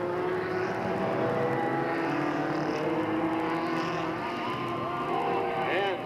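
Stock cars roar up to speed together on the green flag at Delta Speedway, a dense, continuous engine drone with rising pitch sweeps as the pack accelerates, under an announcer calling the race.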